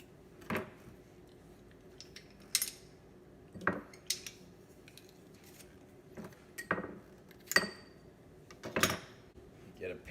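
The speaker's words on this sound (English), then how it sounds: "Put cloves of garlic in there. We're going to crush it." Garlic cloves being crushed with a metal utensil in a kitchen, a series of separate sharp clicks and clacks spaced irregularly against a quiet background, with a voice talking faintly between them.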